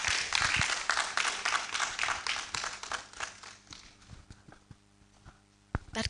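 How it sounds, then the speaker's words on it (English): Brief applause from an audience at a research awards ceremony, a burst of clapping that fades within a few seconds and leaves a few scattered claps in the quiet. "That clap was very brief"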